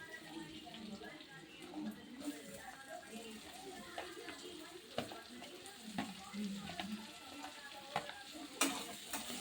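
Onion pieces and crushed garlic fry in a pan for a village-style karchikai palya, giving a steady busy sizzle broken by scraping stirs, with a voice talking over it throughout.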